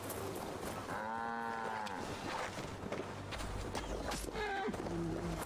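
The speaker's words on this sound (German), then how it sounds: "Eine Kuh." A cow in Assassin's Creed Valhalla lets out a single drawn-out moo, moderately close, over quiet outdoor game ambience with soft footsteps and small rustles.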